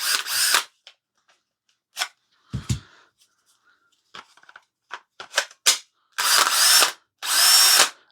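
An old DeWalt cordless drill whirs in short bursts separated by silences, the final two runs longer and louder, with a few clicks and knocks in between.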